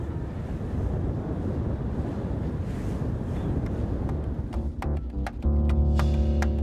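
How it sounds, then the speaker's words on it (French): Wind and rough sea aboard an expedition boat, heard as a loud continuous rush of wind buffeting the microphone over churning waves, ending with a deeper tonal rumble from the vessel. "Les conditions de vent et de mer se durcissent parfois un peu."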